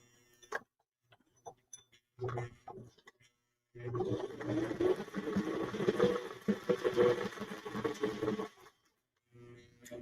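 A home sewing machine stitches a slow-stitch kit piece, a steady mechanical whir running for several seconds after brief clicks and handling noises, pausing, then resuming shortly at the end as it goes in reverse and forward.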